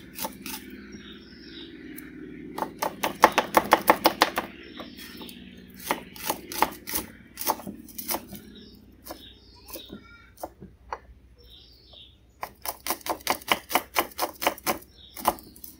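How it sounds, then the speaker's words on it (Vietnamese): Garlic minced with a knife on a cutting board, heard as bursts of rapid, evenly spaced chopping taps that come in several runs, close and crisp, with pauses and scattered single knocks in between. "Mình sẽ bầm một củ tỏi và chia ra làm hai."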